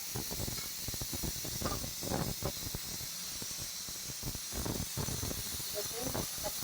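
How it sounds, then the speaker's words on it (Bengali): A pressure cooker whistle hisses steam in a home kitchen while brinjal fries in a pan, a continuous airy hiss with irregular clattering and rattling bursts throughout. "কুকারের সিটিটা বাজছে আবার"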